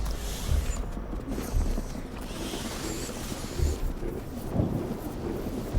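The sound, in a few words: rain and thunder in the video game Mind Over Magic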